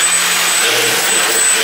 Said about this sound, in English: This time we have the D3542 motor. It's an outrunner, it's 1450 kV